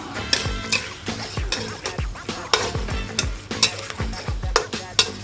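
Butter chicken pieces frying and being stirred in a pan as water goes in, with repeated scraping strokes over a steady close sizzle.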